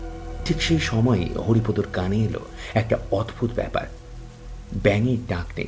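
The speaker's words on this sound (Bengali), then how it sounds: "শুধু বৃষ্টির শব্দ" Steady rain patters in the background of a Bengali horror audio story, while a narrator speaks continuously over it.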